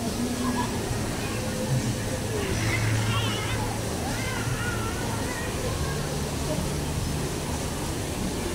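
St. Anthony Falls roars with a steady broadband rush of falling water, and people talk nearby over the constant wash.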